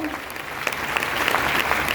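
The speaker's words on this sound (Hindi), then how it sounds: "जोरदार ताली सर" A crowd breaks into dense, sustained applause that swells slightly and holds steady, loud and close.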